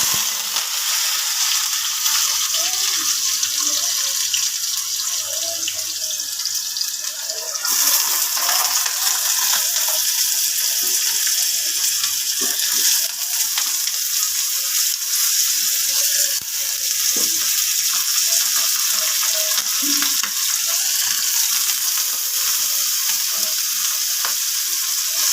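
Potato chip slices sizzle and fry in hot oil for a Gujarati chips sabzi, a loud, dense, continuous crackle close by, with occasional stirring clinks.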